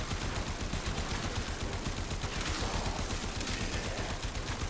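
The Biotic Rounds AX-52 in Warframe fires in a continuous, dense stream of rapid shots, loud and near, hammering without pause for the whole stretch.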